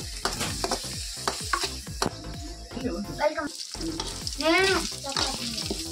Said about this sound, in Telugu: పన్నీర్ తీసుకున్నాను, కొంచెం నెయ్యిలో ఇవన్నీ వేయించుతున్నాను